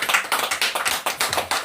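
A congregation claps in church, a quick run of about ten sharp, rhythmic handclaps close by, with no talking.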